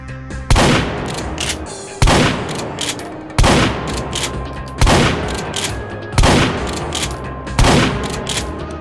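A shotgun in the H3VR virtual reality game, fitted with Team Fortress 2 sound effects, fires six loud, booming blasts at roughly even intervals of just over a second, each one trailing into a short decay.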